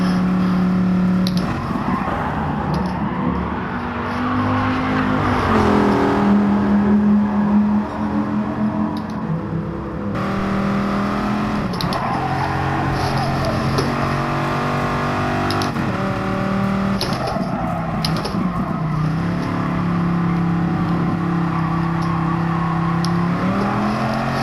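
A Dodge Viper's engine in the racing game GT Sport runs loud and sustained, its pitch climbing and dropping through shifts in overdrive gear, with brief tire noise.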